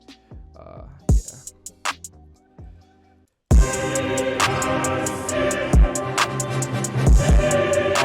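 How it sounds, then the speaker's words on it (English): Bass drum loop played back in FL Studio while chopping a sample: sparse booming kicks and clicks at first, then a dense, loud beat with repeated kick hits that drift out of time, no talking. "I'm just going to get like a bass drum loop so that you can hear that it starts going off time"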